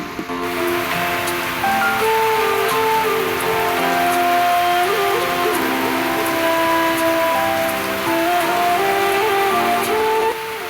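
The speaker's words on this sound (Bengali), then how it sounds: "দেখতে পাচ্ছ কত জোরে বৃষ্টি হচ্ছে" Heavy rain pours down steadily, a dense continuous roar of water hitting surfaces, loud and unbroken for the whole stretch.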